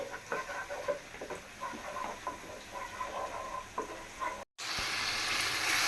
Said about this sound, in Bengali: এক চুলায় আমি মুরগির মাংস বসাই দিলাম তো মাংসটাকে আমি কষাই নিতেছি